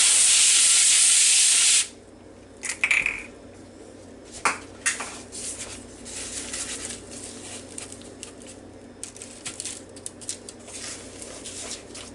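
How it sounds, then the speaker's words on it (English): A short, close hiss of avocado oil spray onto a foil-lined Ninja baking pan, one burst lasting under two seconds, followed by quiet kitchen handling sounds and light clatter. "we'll spray it with a little bit of avocado spray."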